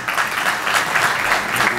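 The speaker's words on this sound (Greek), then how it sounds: "Ένα δυνατό χειροκρότημα." Audience applause at a commemorative event marking 100 years since the Asia Minor Catastrophe, steady dense clapping filling the whole moment at even loudness, with no talk over it.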